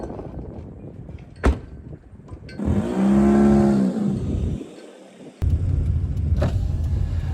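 A car door thuds, then the engine whirs up and revs briefly before settling into steady vehicle rumble, with another door-like knock and continued road noise close by.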